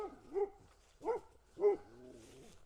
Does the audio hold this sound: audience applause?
no